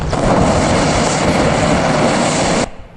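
Homemade rocket propellant burns in open air with a loud, roaring broadband hiss that holds steady for over two and a half seconds, then cuts off abruptly, leaving a faint low rumble.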